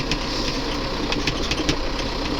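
A New Holland TD85D tractor's diesel engine runs at a steady, rumbling drone out in a field in hazy weather, close and loud and continuous throughout, with no talk over it.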